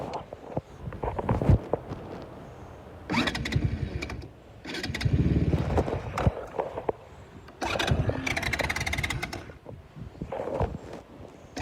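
ATV quad engine sputtering and stalling, then being cranked and restarted in several rough bursts with gaps between, close by and fairly loud.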